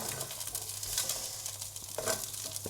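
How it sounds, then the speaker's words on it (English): Diced red onions sizzle in a pot for a one-pot beef bourguignon, a soft, even hiss with occasional scrapes of stirring, close but quiet. "And then I'm going to add my red onions that are all diced up. Good stir."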